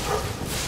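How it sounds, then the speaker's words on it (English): A whimpering enemy sound effect from Spyro the Dragon Reignited, a brief, doglike yelp mixed into dense, busy game audio. "I think the whimper is just a random sound effect that they sometimes produce."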